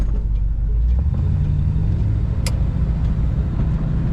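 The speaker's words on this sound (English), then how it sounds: "This car started up great, idle right away" The engine of a 1965 Chevrolet Impala convertible, top down, idles steadily with a low, even rumble, heard up close with no voices.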